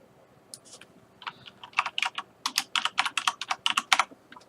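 Fast, uneven bursts of keystrokes on a computer keyboard, close and fairly loud, with short pauses between clusters of taps.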